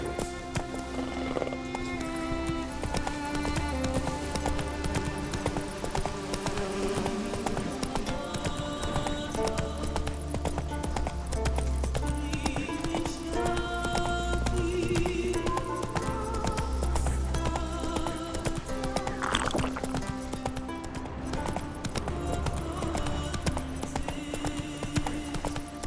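Horse hooves clip-clop at a steady gallop in The Witcher 3, close and continuous for the whole stretch beneath layered orchestral game music, with no clear whinny standing out.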